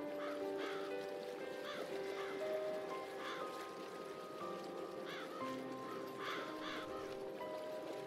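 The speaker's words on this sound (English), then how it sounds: "I could take on 12 crows." Crows cawing in the Nightmares from the Deep adventure game, repeated harsh calls at a moderate distance over a soft, steady ambient background with faint sustained tones.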